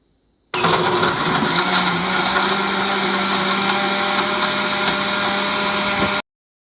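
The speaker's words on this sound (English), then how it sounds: "This is my blender." A blender runs steadily at high speed with a dense, whirring roar, switching on abruptly and cutting off after about six seconds.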